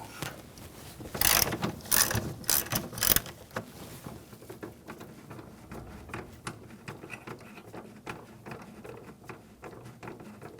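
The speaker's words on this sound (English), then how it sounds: "Using a E18 socket, take this bolt out." Ratchet wrench with an E18 socket loosening a starter bolt on a 2009-2013 BMW 328i xDrive 3.0L I6, giving loud rapid clicking bursts early on, then quieter intermittent ratcheting and tool clatter.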